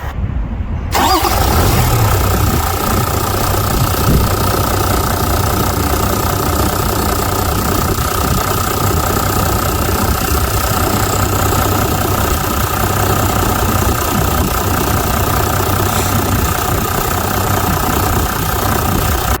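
A Land Cruiser engine turns over and catches after fuel filter housing work, then runs steadily with a low rumble and rising revs, loud and close throughout.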